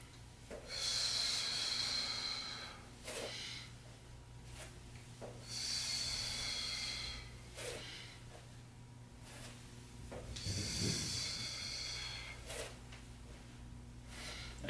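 A person exhales forcefully during a static lateral lunge, with several long, breathy rushes of air separated by pauses, close to the microphone and moderately loud, with no talking.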